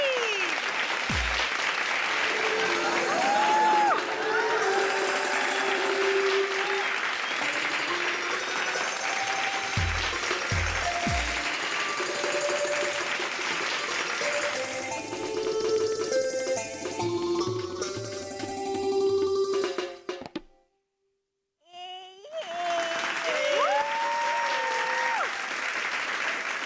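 A studio audience at a Hindi comedy show applauds a female performer, a loud sustained round of clapping that runs for about twenty seconds, drops out briefly, then swells again near the end.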